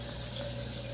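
Water runs steadily into a tank, a continuous close rushing with a low pump-like hum beneath it and no voices.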